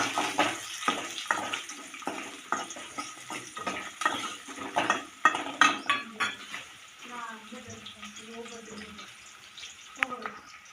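Onion, curry leaves and coriander being stirred in a pan for a maize tempering, with a run of scraping and clinking spoon strokes against the metal and a voice speaking briefly near the end.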